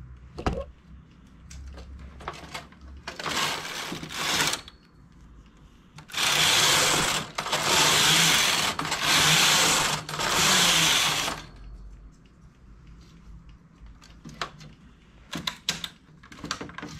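A knitting machine working a leg warmer: loud rasping carriage passes sweep back and forth in bursts, separated by quieter clicks and handling noises, with no voices.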